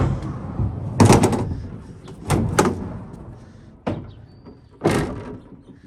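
A storage drawer in a deck storage system slides out and is pushed back several times, giving four or five distinct scraping thumps at irregular intervals, close and fairly loud.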